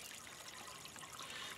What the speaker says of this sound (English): I find myself thinking about this water here in our church water fountain.